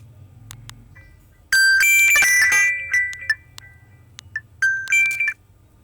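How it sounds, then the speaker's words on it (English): Facebook Messenger ringtone for notifications and incoming calls, loud bright chiming tones with sharp bursts and repeated ding-like notes after a quiet lead-in, playing alone without talk. "You can set the ringtone or messenger notifications and incoming calls."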